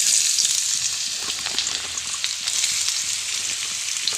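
Carrots fry in ghee in a pan, giving a loud, steady, close sizzle that hisses without break.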